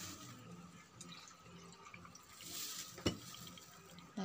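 Water pours into a blender of guyabano shake, a faint trickling and splashing that rises and falls, with a couple of sharp knocks toward the end.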